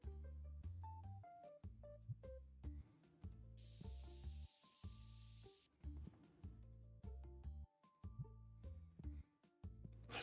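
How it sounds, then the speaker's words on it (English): Spray can fired at a customer in TCG Card Shop Simulator video game: a loud, steady hiss lasting about two seconds, rising over continuous game music with plucked, tonal notes. "Spray the guy and he's left."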